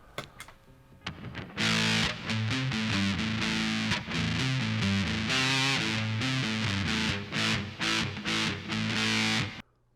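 Heavily fuzzed electric guitar through a Green Russian Big Muff Pi pedal, playing chords and riffs, thick and saturated, with brief pauses between phrases and no voices.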